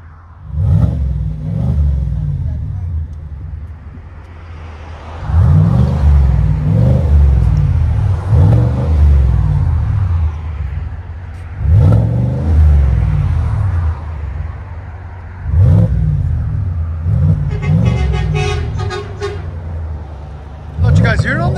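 A 2019 Chevy Silverado High Country with a 6.2L V8 and Dynomax Ultra Flow exhaust revs repeatedly, loud deep bursts rising and falling in several pulses, with people talking over it.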